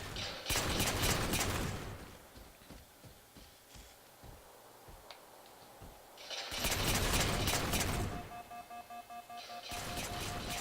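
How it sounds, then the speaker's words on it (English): Rapid automatic gunfire exchanged across a large Halo 4 multiplayer map, loud sustained bursts at the start and again later, with sparser single cracks and mechanical clatter in between. "It looks like they're shooting halfway across the map, and it looks like both of them have lost their shields."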